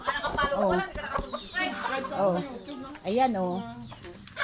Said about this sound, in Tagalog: May mga manok pa. Ayan, may manok pa.